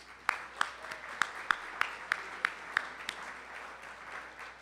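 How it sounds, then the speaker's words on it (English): Audience applause at a public event with the DC mayor at DC Central Kitchen, heard as moderate crowd clapping with a few sharp, regular claps standing out, steady for several seconds without talk. "Could we give them a big round of applause?"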